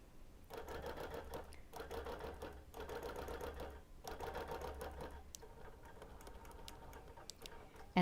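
Sewing machine doing free-motion quilting on a small quilt: steady, close mechanical whirring and rapid ticking in several runs separated by brief pauses, then lighter intermittent clicks.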